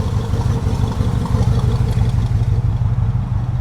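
An old Chevrolet squarebody plow truck idles steadily after long sitting, its loud, close engine running in an even, low, rhythmic chug throughout without voices.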